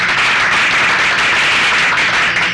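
Wedding guests break into loud, dense applause, many hands clapping together close by in a continuous wash that holds steady and starts to fade right at the end.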